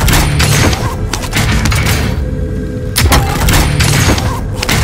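Rapid gunfire and booming impacts burst loudly in a Call of Duty: Modern Warfare match, dense volleys with a short lull between heavy clusters.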